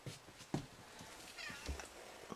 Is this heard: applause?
no